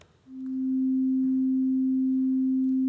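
A single synthesized note sounds as a pure, steady tone that swells in softly and then holds at an even level with a long sustain, with no voices present.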